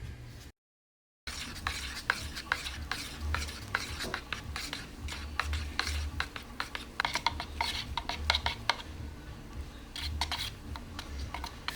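Metallic pigments being stirred into part B of an epoxy resin for an IKEA desk, with a quick, irregular series of close tapping and scraping clicks against the container over a low background rumble.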